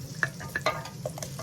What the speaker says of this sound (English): We're gonna saute this till it's nice and golden.